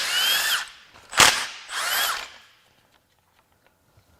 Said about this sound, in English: let's start zipping some more bolts out until parts fall off.